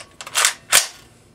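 Two quick dry-fire clicks of an H&K91 G3-type rifle during a function check, close and crisp, about a third of a second apart, with no talk.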